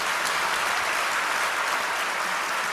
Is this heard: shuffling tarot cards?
no